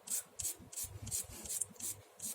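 A plastic model kit being sanded by hand with 400 grit sandpaper, a soft rhythmic rasping of about seven quick strokes, close and fairly quiet with no talking.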